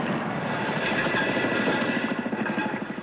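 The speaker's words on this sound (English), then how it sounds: "He looked and watched the train go by like that." A train rolling past in a 1965 Buster Keaton film, a steady loud rumble with rhythmic clacking of wheels over rail joints, heard alone without talk.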